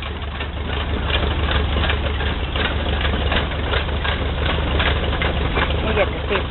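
An old antique farm engine runs steadily at a fair, its low idling chug continuous and fairly loud, with a rhythmic knock under the crowd's chatter and voices nearby.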